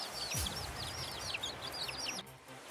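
Chickens clucking and chirping at a trekking hotel at Larkye on Nepal's Manaslu circuit, several birds in repeated bursts, moderately near, alone.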